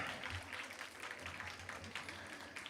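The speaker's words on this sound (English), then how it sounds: "So a wonderful round of applause to Dr." Audience applause for an event coordinator at a women's community gathering, a steady wash of clapping throughout with a low hum underneath and no voices.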